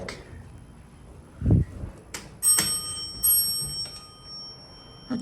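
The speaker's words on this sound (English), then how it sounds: "A chime again, nice." A GAL hydraulic elevator in a college parking garage gives a few bright chime tones that ring on with sustained overtones, following a dull thump and some clicks.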